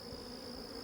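A small cluster of honeybees from a package hive, shaken off a wooden inner cover, gives a steady, faint, close buzz that holds evenly for under a second with no voices.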